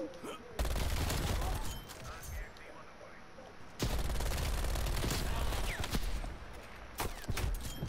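Type 63 rifle fire in Call of Duty: Black Ops Cold War zombies: rapid, loud bursts of gunshots in two long volleys, with a brief lull between them.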